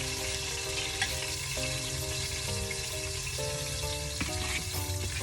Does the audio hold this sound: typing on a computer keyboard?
no